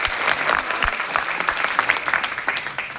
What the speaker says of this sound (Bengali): এদের জন্য ডাবল জোরে হাততালি আছে